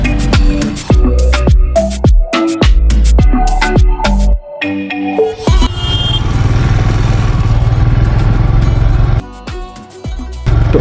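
A Royal Enfield Himalayan motorcycle being ridden on a Ladakh road, its engine droning loud and steady, with gear changes breaking into a rising, revving pattern partway through.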